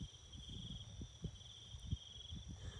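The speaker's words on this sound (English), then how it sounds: "It sounds sort of like crickets" Cricket-like animals in lush greenery in Ecuador's Amazon region, a faint, steady high chirring drone that continues throughout with soft low rustling and bumps underneath.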